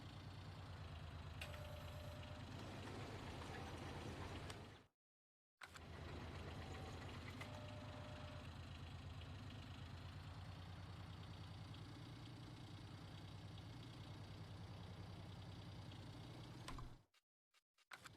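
Small John Deere tractor engine idling and chugging steadily in Farming Simulator 19, a low, even mechanical drone that cuts out briefly twice.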